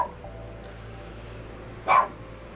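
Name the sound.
dog barking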